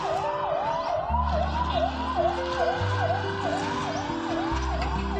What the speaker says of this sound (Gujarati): એમ્બ્યુલન્સ જાય.